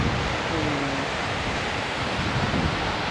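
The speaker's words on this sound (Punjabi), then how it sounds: "ਬਹੁਤ ਜ਼ਿਆਦਾ ਪਾਣੀ ਪਿਗਲ ਕੇ ਜਾ ਰਿਹਾ ਇਹ ਸਤਲੁਜ ਸਾਰਾ ਪੰਜਾਬ ਨੂੰ ਪਾਣੀ ਜਾਂਦਾ ਇਧਰੋਂ" The Sutlej river rushes with meltwater between Shimla and Rampur, making a loud, unbroken roar of water that is close and steady throughout, with wind adding to the noise.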